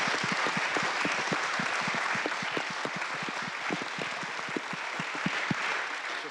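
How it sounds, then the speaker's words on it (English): A crowd at a British Exploring Society celebration evening applauds steadily, many hands clapping together in a dense, even patter that neither builds nor fades. "join me in giving a round of applause to our leaders and for their contribution tonight"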